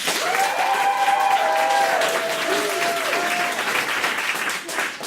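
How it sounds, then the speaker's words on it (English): An improv theater audience claps in a dense, even burst at a Stanford Improvisors show, loud and sustained throughout with faint whoops, easing slightly near the end. "Clap now if you want Dr. Starbeard to stay."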